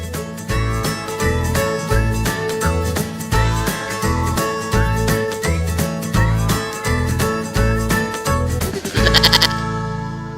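Goats bleat repeatedly with wavering, nasal calls over a steady rhythmic musical backing that runs throughout.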